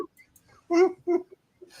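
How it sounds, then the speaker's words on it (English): A cat lets out two short, odd warbling cries, close by, separated by a brief pause, followed by a faint trailing sound. "That is the weirdest noise I've ever heard a cat make."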